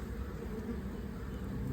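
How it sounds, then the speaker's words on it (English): A low, even buzz rises from honey bees crowding roughly four frames in a hive opened for a spring inspection, soft and unbroken from start to finish. "Solid 4 frames of bees."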